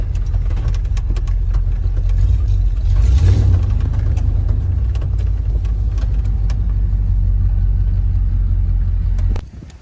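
A car drives steadily with a loud, constant low engine rumble and road noise, then slows as it pulls into a parking lot, the sound cutting off near the end.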